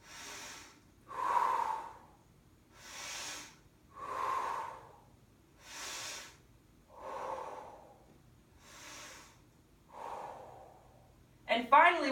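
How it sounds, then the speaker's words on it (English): Slow, deep breaths taken during a hip flow exercise: six or so long, evenly spaced inhales and exhales, close and fairly soft, with a brief louder rustle at the end. "Again, 5 deep breaths."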